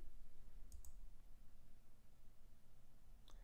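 Computer mouse clicking an execute button in a PHP sandbox: a quick pair of sharp, faint clicks early on, then one more single click near the end, over a quiet low room hum.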